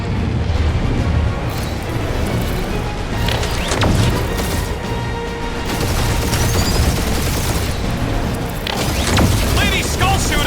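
Gunfire from an enemy ship in the video game Marvel's Guardians of the Galaxy crackles in loud, continuous volleys mixed with heavy booms, splintering impacts and mechanical clatter, with voices talking over the barrage.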